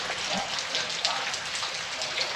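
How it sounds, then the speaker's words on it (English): Heavy rain pours down steadily on a hard day of rain in Central California, a dense, even hiss that stays constant throughout with no distinct drops standing out. "and it is raining. Raining hard today."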